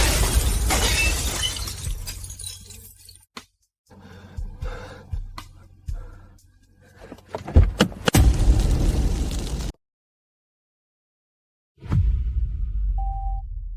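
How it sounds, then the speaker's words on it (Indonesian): Window glass of a luxury car is struck and shatters in a loud burst, followed by scattered knocks and debris, a sudden silence, then another sharp impact with ringing tail. "Apa kaca mobil mewah benar-benar setangguh ini?"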